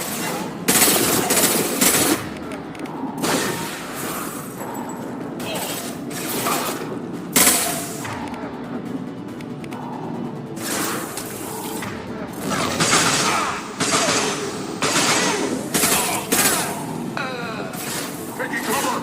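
Rapid mechanical gunfire from the video game Mass Effect 2, bursts of clattering shots repeating through a busy combat mix, with voices talking over the action.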